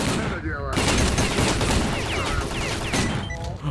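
Gunfire in a S.T.A.L.K.E.R. video game mod comes as a loud, dense burst of rapid automatic shots that keeps going for several seconds, with someone talking over the shooting now and then.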